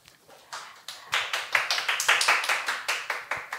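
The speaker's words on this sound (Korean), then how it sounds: "박수로 함께 하도록 하겠습니다." A small audience claps to welcome a speaker at a community event. The sparse claps at the start quickly build into a few seconds of close, steady applause.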